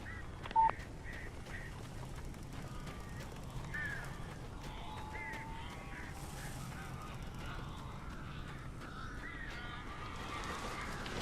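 Crows cawing in the Alan Wake video game, several faint harsh calls scattered over a dim, steady ambient background, with one sharp click-like tone early on.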